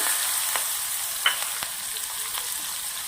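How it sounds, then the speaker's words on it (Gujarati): Hot oil sizzles steadily with a bright, crackling hiss, broken by a few sharp pops and spits as cumin seeds, asafoetida and green chillies fry. "તેલ ગરમ થઈ ગયું છે. 1 ચમચી ભરી અને જીરું નાખું છું."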